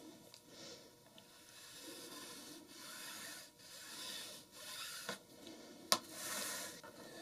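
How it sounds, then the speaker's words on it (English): Chalk is drawn across fabric to mark a half-inch seam allowance on a holiday tote bag, giving faint, soft, scratchy rubbing strokes that repeat in a low, quiet stretch with no talking. "I'm going to mark that with some chalk."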